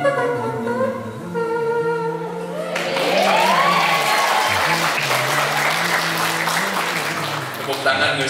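An audience of students at a school gathering claps loudly and steadily, a dense burst of applause that rises from a musical passage with a voice heard over it early on.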